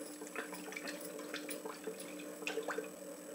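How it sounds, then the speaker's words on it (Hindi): Warm water is poured into a container of spices for making carrot kanji, a steady trickling, splashing pour heard close up with faint drips and no talking. "इसके अंदर हम ये थोड़ा सा गर्म पानी डालते हैं"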